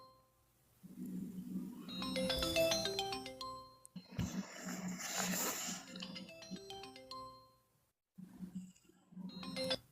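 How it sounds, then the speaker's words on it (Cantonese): A phone ringtone plays a repeating melodic tune in several loud bursts separated by short pauses, and the call goes unanswered during a live-streamed conversation. "佢唔夠膽聽電話喎"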